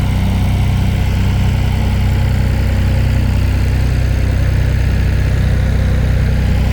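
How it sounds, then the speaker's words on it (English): A tractor engine runs steadily at idle, a loud, constant low rumble with no other sounds. "He has this tractor running."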